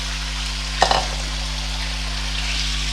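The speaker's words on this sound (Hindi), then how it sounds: "मैं ये आलू डाल के इसे मैं पहले थोड़ी देर फ्राई करूँगी।" Potatoes frying in oil for a spicy potato curry, a steady broad sizzle throughout with one louder crackling burst near the start, then an even hiss with no talking.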